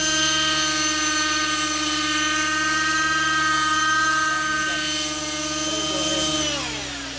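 A T-REX 600N nitro RC helicopter running low on fuel while flying, its engine giving a loud, steady high-pitched whine with strong rotor drone that holds, then shifts in pitch near the end, close and continuous.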